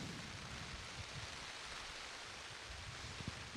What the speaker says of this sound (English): if you can hear the pitter-patter, that is the true northwest rain as it thumps upon us